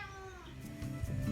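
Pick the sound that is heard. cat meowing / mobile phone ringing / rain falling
cat meowing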